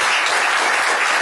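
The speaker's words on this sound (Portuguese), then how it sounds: "Uma salva de palmas para vocês." An audience at a psychology lecture breaks into loud, dense applause, with a brief burst of clapping that fills the room.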